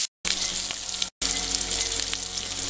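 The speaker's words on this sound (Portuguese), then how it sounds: "Aqui eu tenho mais ou menos 150 gramas de bacon, tô fritando aqui, ó, sem óleo" About 150 grams of bacon fries in a pan with no oil, a dense steady sizzle and crackle close up, briefly cut out twice, with no talking.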